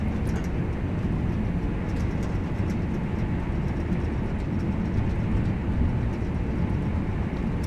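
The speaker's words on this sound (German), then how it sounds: "Jetzt können wir hier mal ein bisschen schneller fahren mit unserem Zug." A BR Class 323 electric train in Train Sim World 3 drives along the Glossop Line with a continuous low rumble and steady rolling drone, fairly loud and unbroken throughout.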